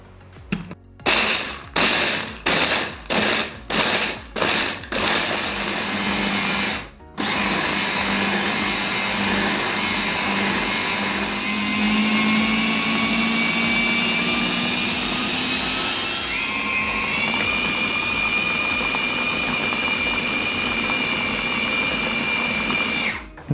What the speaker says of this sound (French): j'utilise le même mixeur depuis des années pour réaliser mes pralinés.